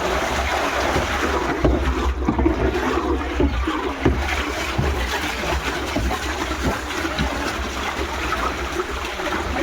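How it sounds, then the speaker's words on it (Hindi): Steady rushing water streams continuously through a pipe on a broiler poultry farm, mixing medicine into drinking water, a loud unbroken gush with faint clanks underneath. "तो अच्छे से पाइप के जरिए पूरा पानी मिक्स कर देंगे"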